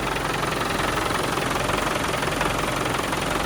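A 1996 Land Rover Defender 90 with a 2.5 L 300 Tdi turbo diesel idles with a steady clattering rumble, heard close and even throughout the short stretch.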